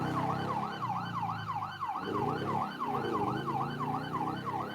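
Emergency vehicle siren in the GTA 5 video game, a loud, steady wailing cycle that rises and falls rhythmically throughout, with engine rumble underneath.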